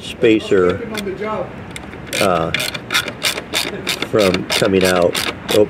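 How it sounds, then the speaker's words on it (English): A ratchet clicks in short rapid bursts while tightening a screw on a bracket during an install on a 2022-2024 Mercedes-AMG SL, close and fairly loud, alternating with someone talking. "I'm just kind of holding it up in there like that and tightening the screw"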